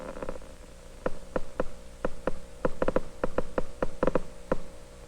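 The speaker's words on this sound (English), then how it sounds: "You hear the amplified sound of the elementary charges in this very weak current." Sharp amplified clicks from elementary charges flowing in a very weak electric current, arriving as irregular isolated ticks a few per second, loud and close, over a faint steady hum.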